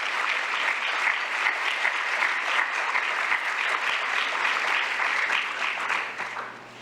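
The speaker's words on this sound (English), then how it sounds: "Let's give them a round of applause and thanks." Conference audience at a Nashville African American history and culture gathering applauding: many hands clapping in dense, steady applause that lasts several seconds and then tapers off near the end.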